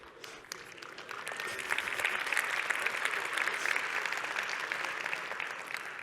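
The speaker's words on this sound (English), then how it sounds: "It's so easy to get applause." Applause from a conference audience at a Vue.js tech talk in Amsterdam, starting with a few claps and swelling into a steady, fairly distant crowd of clapping that holds to the end.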